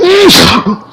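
A single loud, close sneeze with a sharp rising burst that quickly fades, heard during a gamer's livestream session.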